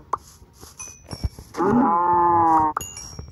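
A Minecraft cow lets out one loud, drawn-out moo of about a second, close and clear, between scattered clicks, thuds and short game effects.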